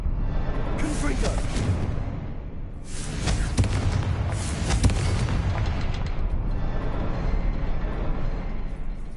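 Confringo fire spell in Hogwarts Legacy, a dense rumbling blast with repeated booming bursts, close and loud, continuing under a steady roar throughout.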